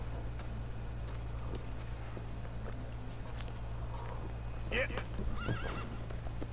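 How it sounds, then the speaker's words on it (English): Horses whinny and neigh in Red Dead Redemption 2, with hooves clip-clopping nearby, a couple of sharp whinnies near the end over a low steady hum. "Get away, horses!"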